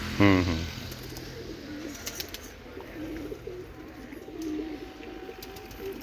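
Pigeons coo softly in low rolling calls beneath a hissy background, with a brief loud tonal burst at the very start and faint scattered clicks.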